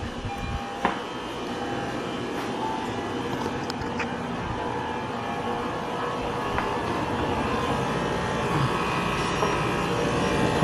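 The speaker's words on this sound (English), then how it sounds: "Car's on, motor's running" A car's engine idles after an oil change, giving a steady low rumble with a faint mechanical whine, a brief clunk near the start and light background noise throughout.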